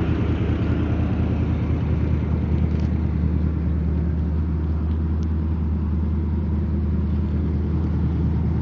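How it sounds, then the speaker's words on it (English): A 1980 Chevrolet Corvette engine rumbles loud and close, steady and throaty, with small rises from light revving and no talk. "Give her a little rev. Gotta have a little rev on it."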